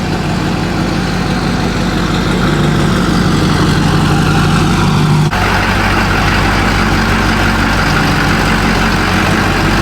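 A rusty 20-year-old Duramax diesel truck idles close by, a loud, steady low rumble with a constant clatter that holds unchanged throughout, with no one talking.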